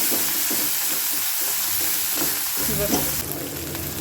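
Green chillies frying in hot oil with browned garlic for pithla, a continuous close sizzle with stirring strokes and a brief louder spatter near the end, no talk.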